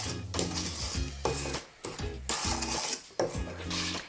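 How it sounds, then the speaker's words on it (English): A mixer paddle scrapes down the side of a mixing bowl holding creamed sugar and butter, close, rhythmic rasping strokes repeated about six times with brief pauses. "Just using my paddle, I'm gonna scrape down the side of my bowl."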